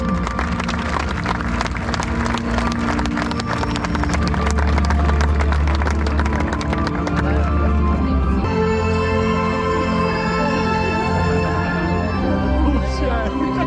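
Spectators at the Game Fair 2023 applaud a dog handler, a dense, continuous round of clapping from a crowd outdoors with voices mixed in, easing slightly toward the end.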